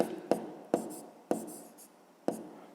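A pen writes maths on paper in short scratchy strokes with sharp taps as it touches down, close and quiet, several separate strokes in an uneven rhythm.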